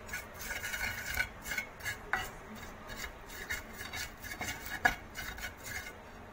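A mashed vegetable bharta being mixed by hand with salt and coriander leaves, close, soft squelching and rubbing in an uneven rhythm, with a few sharper taps against the bowl.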